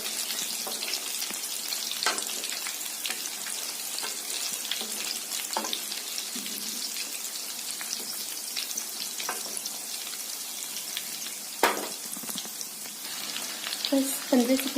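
Vegetable cutlets fry in hot oil with a steady, soft sizzle that continues throughout, broken by occasional sharper crackles and light clinks near the end.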